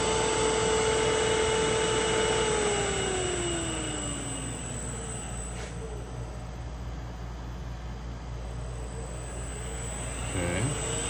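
A 1hp three-phase 220V motor on a YL600 VFD whines loudly. Its tone falls steadily as it decelerates, and a faint rise follows near the end as it reverses, over a constant electrical hum.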